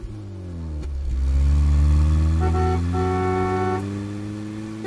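A car engine rises and holds as traffic drives past, then passes through a steady mid-pitched roar with shifting tones. The engine is close and loud, with no talk over it.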